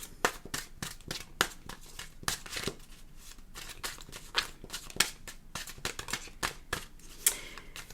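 A deck of tarot cards, roughed up around the edges, being riffled and shuffled repeatedly, giving rapid crisp bursts of card flutter in an irregular rhythm, close and fairly quiet with no talking.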